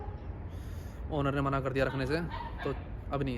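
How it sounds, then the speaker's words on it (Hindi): Dogs bark in neighbouring houses, a few yips and barks sounding behind someone talking nearby. "कुत्ते भौंक रहे हैं"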